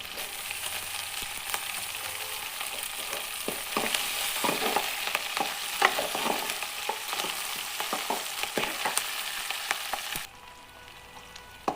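Onions and green chilli pieces fry in a pan with a steady hiss and crackle and frequent sharp pops and stirring scrapes, then the sizzle drops away abruptly near the end.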